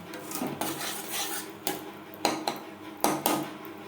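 Caramel being stirred in a pan over a low flame, a metal spoon scraping and knocking against the pan in irregular bursts with sharp clinks, close and fairly loud.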